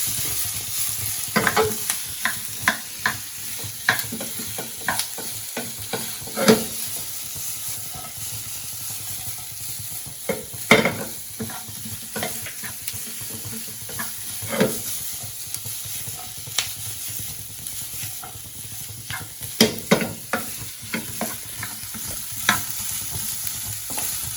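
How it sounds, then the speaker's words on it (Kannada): Sliced capsicum stir-fried in a pan for paneer manchurian, a steady close sizzle and hiss broken by repeated sharp scrapes and clacks of a spatula stirring, with no talking. "ನೆಕ್ಸ್ಟ್ ಕ್ಯಾಪ್ಸಿಕಮ್ ಹಾಕೊಳ್ಳೋಣ. ಇದನ್ನ ಫ್ರೈ ಮಾಡ್ಕೊಳ್ಳಿ."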